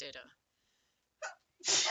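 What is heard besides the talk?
sneeze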